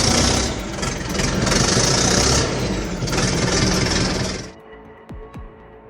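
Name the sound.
tractor engine roaring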